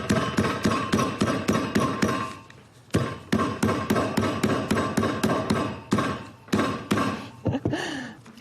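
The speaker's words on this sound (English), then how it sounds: "And then you'll just fold over your paper, take your hammer." A hammer pounds fresh flowers folded inside paper in quick, close bursts of rapid blows, with two short pauses between the runs of strikes. The dull thuds and taps keep a steady pace.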